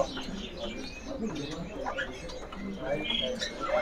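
Thai Poksai laughingthrushes and other caged birds in a bird kiosk chirp, whistle and coo in overlapping bursts, with voices talking in the background.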